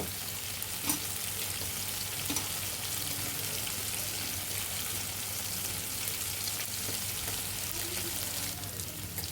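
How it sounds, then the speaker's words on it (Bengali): Fried small fish koftas drop into hot spiced oil in a pan, giving a steady, fairly quiet sizzle and frying hiss with a few soft clinks and stirring sounds throughout. "মশলাগুলো কষানো হয়ে গিয়েছে তেল উপরে ভেসে উঠেছে এখন ভেজে রাখা কুপ্তাগুলি এর মাঝে দিয়ে দিব"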